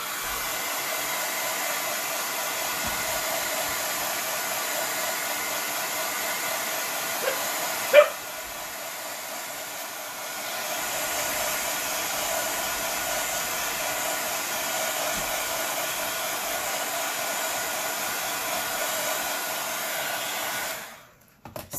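A hair dryer blows steadily up close for about twenty seconds, drying paint on a rock fairy house craft, with a brief bump and dip in the middle before the motor cuts off at the end.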